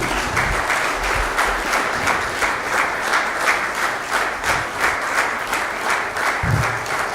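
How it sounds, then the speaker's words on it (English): Steady, energetic clapping from an awards ceremony audience, loud and continuous with a rhythmic pulse running through it. "Please keep it clapping."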